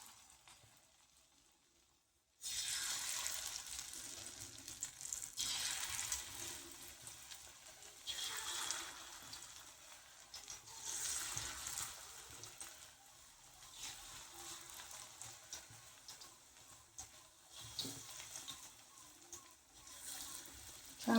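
Onion bhaji (kanda bhaji) frying in hot oil in a home kitchen, a steady crackling sizzle that starts abruptly after brief silence and continues with surging, bubbling texture throughout.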